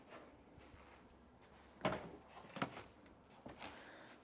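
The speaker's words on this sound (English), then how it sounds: "Let's open up that rear door." A rear door on a 1994 GMC Suburban 4x4 is worked open, with a few muffled clunks and latch knocks spread over several seconds, fairly quiet and close, with no talk.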